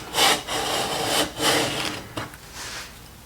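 Stanley No. 4 hand plane with a 50-degree frog taking passes on quarter sawn sycamore, a few close swishing strokes in quick succession that fade toward the end.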